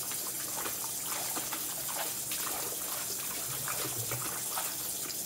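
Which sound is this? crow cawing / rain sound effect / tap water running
tap water running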